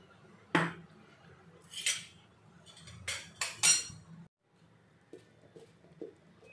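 A metal spoon clinks and scrapes against a bowl while stirring dal-rice dhokla batter seasoned with oil and salt, in several close, uneven bursts with short pauses between them.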